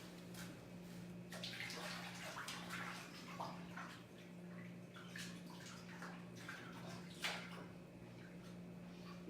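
An item is set down into water, giving a steady wash of splashing and gurgling with scattered drips and small knocks, close and fairly quiet, with no talking.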